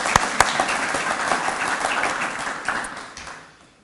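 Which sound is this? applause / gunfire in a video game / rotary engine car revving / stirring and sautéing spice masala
applause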